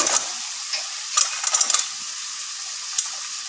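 Chickpeas fry in a pan with a thin, continuous hiss of sizzling oil, punctuated by scattered small ticks and pops, close and fairly quiet, with no one speaking.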